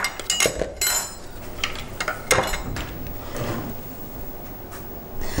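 Ingredients being mixed in a bowl in a home kitchen: irregular clinks, knocks and scrapes of a utensil against the dish, close and moderately loud.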